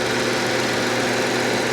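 An Infiniti G37xS with a 3.5-liter engine idles at a steady, even hum with a smooth, unbroken drone and no talking.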